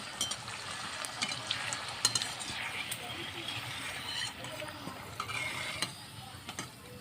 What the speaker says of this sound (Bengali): বাকিগুলি সবগুলি ভেজে নেব এবার লাল লাল করে ভেজে তুলে নেব